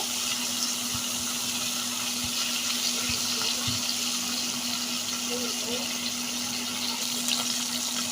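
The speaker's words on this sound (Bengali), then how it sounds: "মাছগুলো দেখো খুব সুন্দর করে কিন্তু আমি উল্টে পাল্টে ভাজছি" Taki fish frying in hot oil and being turned over in the pan, a steady, dense sizzle throughout with a few faint clinks of the utensil, close and even, no talk.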